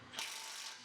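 A power tool trigger squeezed on a coilover socket, giving a short, close mechanical whir that starts abruptly and holds steadily for under a second.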